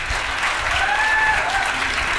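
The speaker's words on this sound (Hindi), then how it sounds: "एक बार आप इन दोनों के सम्मान में तालियां बजा दें।" Sustained applause from a large audience at a Teachers' Day college event, a dense, even roar of clapping that holds steady throughout with faint crowd noise beneath.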